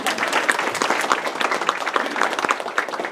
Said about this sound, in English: So clap it up for those kids